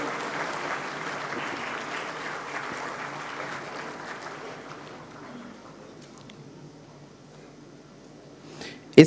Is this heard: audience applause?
yes